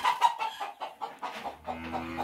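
A chicken on a small rural farm clucks in a quick series of short, bright calls, fairly close and loud, with a low hum entering near the end and no speech.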